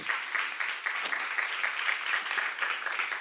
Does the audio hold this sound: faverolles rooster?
no